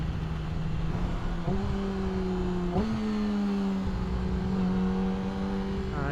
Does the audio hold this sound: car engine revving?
yes